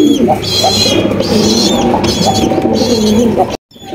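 Damascene pigeons coo in low, throaty rolling calls, close and loud, several birds overlapping continuously, with some faint chirps above.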